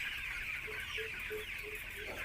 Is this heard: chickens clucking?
yes